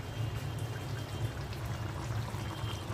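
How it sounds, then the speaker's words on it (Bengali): Water poured into a pot while rice and lentils are rinsed for vegetable khichuri, a steady close trickling and splashing that runs without pause and with no talking. "চাল আর ডালটা ধুয়ে নিচ্ছি।"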